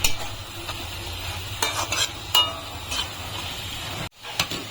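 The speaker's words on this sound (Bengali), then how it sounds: "হলুদ দিয়ে নাড়িয়ে চাড়িয়ে আবার গ্যাসটা মিডিয়ামে রেখে ঢেকে দেবো" Fenugreek greens with turmeric stirred in a pan over medium heat: a continuous soft sizzle broken by several scraping spatula strokes and clinks, with a brief clatter near the end and no speech.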